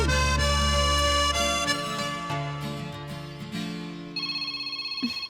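A telephone rings during a phone call: a loud, close tonal ring with sustained electronic pitches, then a brief pause before a further burst of repeated ringing near the end.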